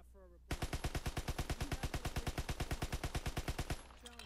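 Grease Gun from Call of Duty: WW2 firing one sustained automatic burst of about thirty evenly spaced, punchy shots at longer range, after a brief quiet lead-in.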